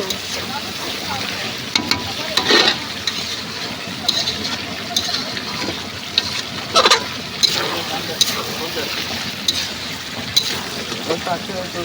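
Goat meat braises in a pot with a little added water, sizzling and bubbling steadily while a spoon scrapes and stirs in intermittent clacks, with talk over it.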